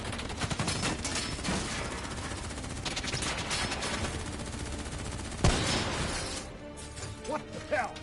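Gunfire in the Call of Duty video game, rapid automatic bursts over battle noise with a sharp crash midway, followed by quieter scattered shots while voices shout.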